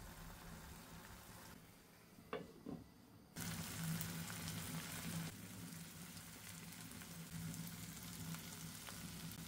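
Kachki fish fries in oil in a pan, a soft sizzling hiss that drops away briefly, then returns steady and fairly faint, with a couple of quick clatters in between.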